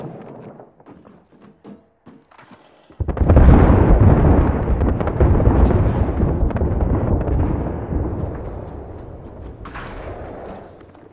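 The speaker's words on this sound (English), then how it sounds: "We've got an airstrike coming in." Airstrike explosions in the video game Apex Legends: a heavy blast erupts suddenly after a few quiet thumps, then a loud, sustained rumbling roar that slowly fades, with no talking.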